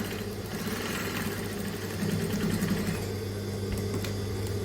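Sewing machine running steadily with a continuous mechanical hum and rapid stitching buzz while hemming the side of a peplum skirt, close and moderately loud.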